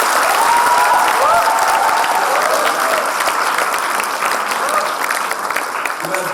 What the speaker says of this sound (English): can we have a huge round of applause for the entire VH1 team?